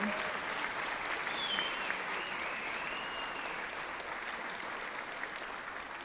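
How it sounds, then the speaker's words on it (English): A theatre audience at the Port Theatre applauds after a live show, sustained, even applause from a large crowd heard from a distance, with a few faint whistles and cheers. "Let's have another round of applause for Ay Lelum, the Good House of Design."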